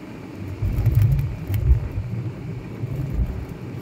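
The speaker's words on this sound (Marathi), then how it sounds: "किती जवळून गाड्या जातात एकदम." Cars pass close by on a road during a journey from Virar to Tryambakeshwar via Jawhar, a loud, low whooshing rumble that swells and fades, with several vehicles going past in quick succession.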